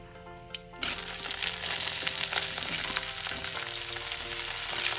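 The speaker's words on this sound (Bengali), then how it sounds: "এবার আমি বেগুনটাকে একটু হালকা করে ভেজে নেব" Chopped brinjal hits hot oil tempered with nigella seeds, a sudden sizzle bursting in after a quieter moment and then crackling steadily and close in the pan.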